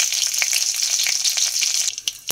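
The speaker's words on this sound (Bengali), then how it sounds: "কড়াইতে সর্ষের তেল দিয়েছি, ধনে পাতা দিয়েছি, আর দিলাম 5 ফোড়ন।" Panch phoron spices sizzle in hot mustard oil in a wok with coriander leaves, a steady close frying crackle with scattered pops throughout, no voices.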